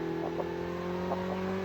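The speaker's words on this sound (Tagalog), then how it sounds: "Narinig niya yung sasakyan niyo." A video game vehicle's engine drones steadily at low volume throughout, a constant hum with faint rustling over it and no talk.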